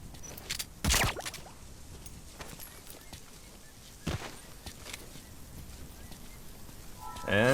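Goat separated from its herd bleating in the video game Metal Gear Solid V: The Phantom Pain, with a couple of sharp calls spaced a few seconds apart over quiet outdoor ambience and a harmonic cry near the end.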